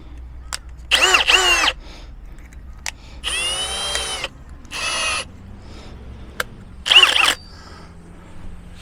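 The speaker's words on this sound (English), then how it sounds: "Just a 3mm drill bit." A power drill with a 3mm bit bores a hole while an anti-flap kit is fitted to a Dometic roll-out awning, running in several short whining bursts separated by pauses, close and loud.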